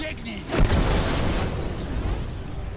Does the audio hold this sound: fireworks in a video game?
yes